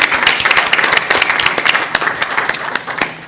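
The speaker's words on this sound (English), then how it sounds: "So let's give all of you a round of applause." Audience at a school board of trustees meeting breaks into steady applause, a dense patter of many hands clapping at moderate volume for several seconds.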